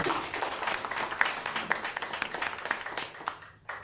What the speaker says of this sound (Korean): 박수 한 번 좀 부탁드릴게요.